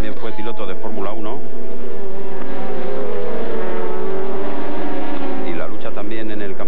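Touring race cars in the 2005 World Touring Car Championship at Valencia's Ricardo Tormo circuit, including a Seat León, with engine whine rising and falling at close range under continuous Spanish commentary.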